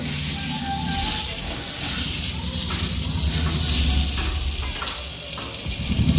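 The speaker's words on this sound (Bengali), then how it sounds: "মাংসের জন্য আলুগুলোকে ভাজছি" Thin slices of potato frying in hot oil for a meat curry, a loud, continuous sizzle and hiss with occasional stirring scrapes, running steadily throughout.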